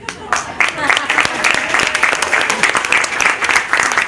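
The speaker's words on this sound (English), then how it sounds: "I want to ask for one round of applause for them right now." An audience at a presentation claps steadily for several seconds, a dense, even wash of many hands close and loud, with some cheering voices mixed in.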